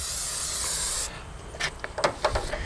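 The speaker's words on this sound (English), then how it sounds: "extra virgin olive oil is what you're using for cooking spray" Extra virgin olive oil cooking spray hisses out in a loud, close, continuous burst for about a second onto foil and walleye fillets, followed by a few short sputtering spritzes and light handling clatter.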